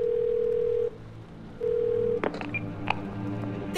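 A phone line gives a steady tone that pauses and resumes, followed by a quick run of short dialing beeps as a call is placed to a health insurer, close and clear with no talking.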